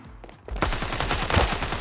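Loud rapid gunfire in the mobile shooter Standoff 2, a fast burst of close, rhythmic shots starting abruptly and continuing to the end, with no talk over it.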